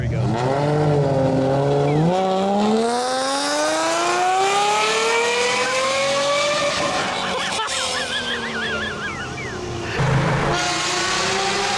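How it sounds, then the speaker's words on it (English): Mercedes-Benz S600 with the M120 V12 and a modified exhaust, revving hard in rising high-pitched sweeps like an old Formula 1 car, loud and close, with a brief drop near the end before climbing again. "someone in Japan decided to change the exhaust on the S600, and the sound it produced reminded you of F1 cars of past"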